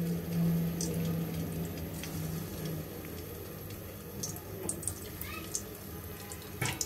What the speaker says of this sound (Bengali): এখন আমরা তেলে ভেজে নিব।